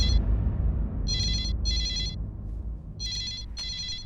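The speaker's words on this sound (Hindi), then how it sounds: "आपके लिए फोन आया, किसी लड़की का फोन आया।" A telephone rings in two pairs of bright, steady electronic trills separated by a pause, loud over a low rumbling background hum with no one speaking.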